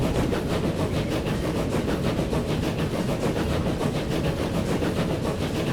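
A train rolling steadily along a railway line in the Transport Fever game, its continuous rumbling hum laced with rhythmic clickety-clack of wheels over rail joints, loud and unbroken throughout.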